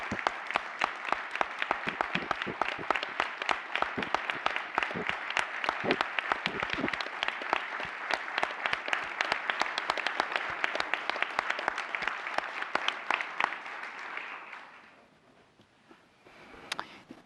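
An audience at a school board meeting applauds Dr. Lockhart with sustained, crisp clapping of many hands, steady for about fourteen seconds before quickly dying away into near quiet with a few last claps.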